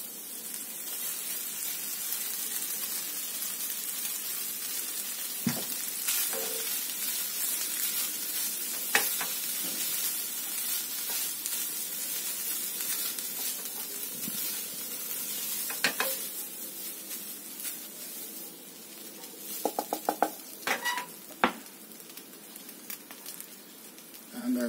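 Rice fries in a pan with toasted chilies, giving a constant close sizzle broken by occasional scraping stirs and a short burst of clicking utensil taps near the end.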